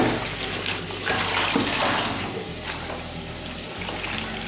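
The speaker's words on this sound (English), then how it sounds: "And then we're just going to put fresh clean water in and rinse the vinegar off the lettuce." Tap water runs steadily into a kitchen bowl to rinse vinegar off lettuce, a continuous close splashing rush that keeps going without a break.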